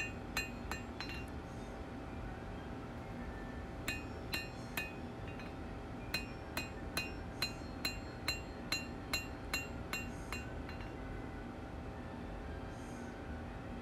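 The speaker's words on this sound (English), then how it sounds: "one more heat, just to planish out the hammer marks, smooth everything up" A hammer planishes a hand-forged blade on the anvil, giving bright ringing metallic strikes in short clustered bursts with pauses between, fairly quiet in a workshop with no talking.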